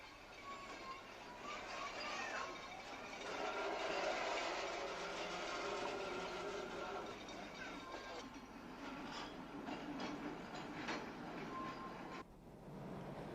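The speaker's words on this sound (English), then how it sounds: "A narrow-gauge tramway runs for 3 miles along part of the former railway branch to Seaton" A narrow-gauge tram rolls along a former railway branch line to Seaton in Devon, giving a steady rumbling run with rattling wheels that swells midway and stays fairly loud before a brief dip near the end.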